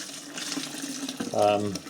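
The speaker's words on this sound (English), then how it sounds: "I get the water from the hot tap before it's gone hot" Water runs from a hot tap into a container while making blackberry wine, a steady splashing pour that swells toward the end, with a voice talking over it.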